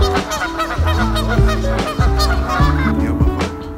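A duck honks loudly and close in a quick run of repeated nasal calls, about a dozen over a few seconds, with no talking over it.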